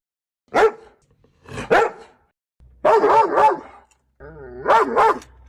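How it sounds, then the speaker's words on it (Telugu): A tethered dog barks four times in separate bursts, close and loud, the later barks rougher with a growling, whining edge and short silences between them. "కుక్క మురుగుతోంది"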